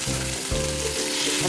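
Wide-cut beef strips hit a hot pan, setting off a loud, steady sizzle with a little stirring.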